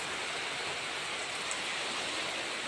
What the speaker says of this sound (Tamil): செம்ம மழை, செம்ம காற்று மழை ஃப்ரெண்ட்ஸ்.